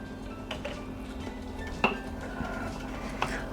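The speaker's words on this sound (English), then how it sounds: "Now we're going to stir in all of our beans." Beans being stirred into chili in a pot set over low heat: soft scraping and a few light clinks of a spoon against the pot, close by and otherwise quiet.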